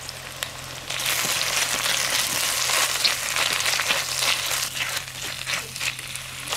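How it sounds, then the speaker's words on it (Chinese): Scallion, ginger, onion and a spoonful of small chilies hit hot oil in a clay pot, bursting into a loud, dense crackling sizzle after a brief quiet start that keeps popping unevenly for several seconds. "砂锅底部倒点油，下入葱、生姜、洋葱，来一勺小辣椒"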